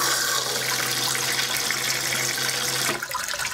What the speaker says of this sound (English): push this down for a flush